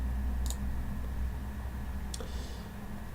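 Two crisp computer mouse clicks, about a second and a half apart, sounding close over a low steady hum of room noise.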